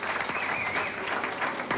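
Crowd applause at the close of a 1988 Australian Masters men's bowling final, a dense, steady wash of clapping that holds at even strength for a couple of seconds with no voices over it.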